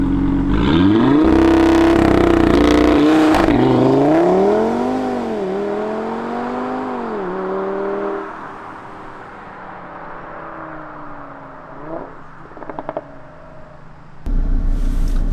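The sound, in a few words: Audi RS3 engine revving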